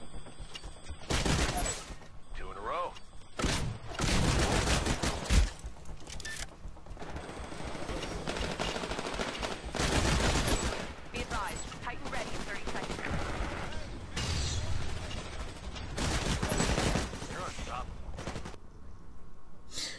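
Rapid bursts of Smart Pistol Mark 5 gunfire in the video game Titanfall, dense fusillades mixed with game effects and explosions, with a voice talking over much of it.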